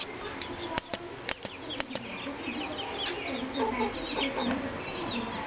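Several sharp clucks and short calls from a rooster in Breu Branco, Brazil, spaced irregularly, followed by softer chatter and rustling nearby.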